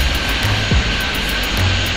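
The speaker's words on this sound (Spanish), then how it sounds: "Esta es una avioneta que puede ser un problema grave." A light aircraft's engine drones steadily and loudly in Airport Madness 3D at a Rocky Mountain airport, with no voices over it.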